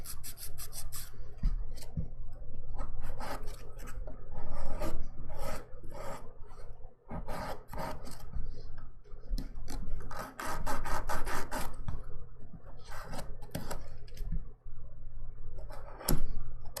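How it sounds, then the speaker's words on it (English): A nail file rasps back and forth along the edges of a red and gold glitter dip powder manicure in quick, rhythmic strokes, close and continuous, with brief pauses between bursts. "I usually just like file the bottom quick in case there's any little pieces hanging off"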